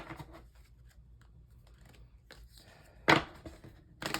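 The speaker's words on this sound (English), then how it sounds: "These cards are thick and they shuffle funny." Thick tarot cards being shuffled, a few quiet bursts of riffling and card slaps with gaps between, close and soft, then a louder sharp flurry near the end.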